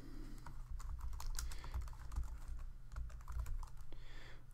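Steady typing on a computer keyboard while entering text into a Google Docs document, a continuous run of quick, close keystrokes with no talking.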